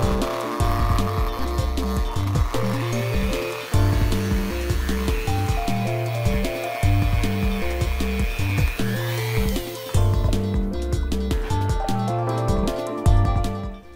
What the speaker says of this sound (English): I'll also lightly polish the inside of the bearing to make sure there is no residual gunk in there.